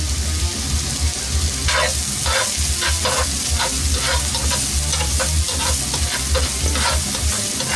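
Finely chopped onions sizzling steadily in a hot pan, with a continuous frying hiss broken by regular scraping strokes as they are stirred, close and loud with no talking.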